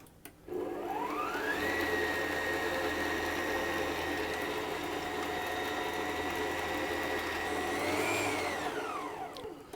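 An electric mixer beating yudane and milk for Japanese milk bread dough, its motor whirring up to a steady high drone that holds for several seconds, then rising briefly before winding down.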